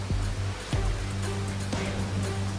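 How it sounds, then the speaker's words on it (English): Flash floodwater rushing through flooded streets where cars are stuck, a loud, steady roar of churning water close by with a few deeper surges, no voices. "Cars were stuck on the road when the floodwaters poured in."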